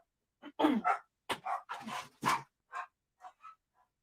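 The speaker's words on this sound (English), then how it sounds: "my dogs are barking because my husband just came home" Pet dogs bark at home in a short burst of about a dozen yaps and barks, fairly close and loud, with no talking over them.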